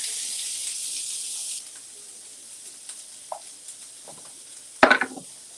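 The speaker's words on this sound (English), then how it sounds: "I'm going to go ahead and get these onions in" Onions dropped into a hot pan give a steady frying hiss that fades after a moment, then a sharp, louder sizzle flares up near the end and settles.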